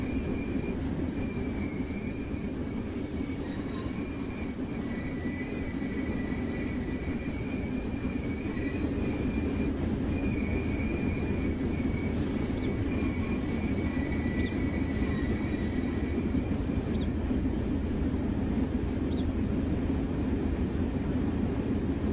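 A Metrolink train runs on the San Bernardino Line in the video game Train Sim World 5, a steady low rumble of the moving train with faint whining tones, continuous and even throughout.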